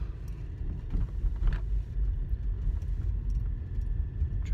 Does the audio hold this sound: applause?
no